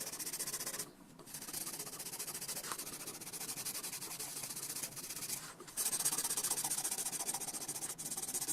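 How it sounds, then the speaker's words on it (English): Dried epoxy being cleaned off a knife blade, heard as quiet, continuous rubbing and scraping strokes with a couple of short pauses, close to the listener. "now it's time to clean off any dried epoxy from the blade"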